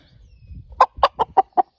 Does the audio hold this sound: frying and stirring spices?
no